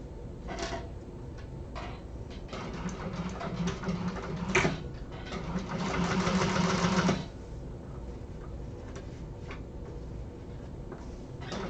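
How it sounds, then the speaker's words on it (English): A sewing machine top stitches along a seam, its needle running in a fast even whir for several seconds, framed by lighter scattered clicks and handling noises in a quiet room. "we are going to top stitch right along here to hold that seam in place"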